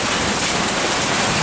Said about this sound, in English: I think it's mainly rain now